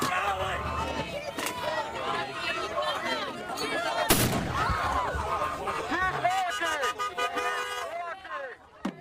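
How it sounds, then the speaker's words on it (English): A flashbang grenade goes off amid protesters outside a Coast Guard station, one sharp, loud bang cutting through crowd noise, honking horns and a voice talking. "You heard that there's someone throwing a flashbang into all of this right now"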